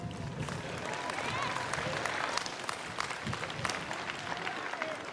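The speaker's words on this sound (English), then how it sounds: "Give a round of applause to your parents" Graduation commencement audience applauding their parents, a dense steady wash of many hands clapping throughout with crowd noise and scattered voices mixed in.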